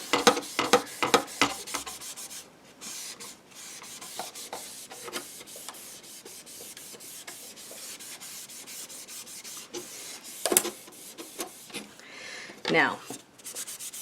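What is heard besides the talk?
sanding a wood frame with 60 grit sandpaper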